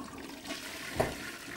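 A low-flush toilet fed by recycled grey water from a shower and bath flushes in a short, soft rush of water, close by and heard alone.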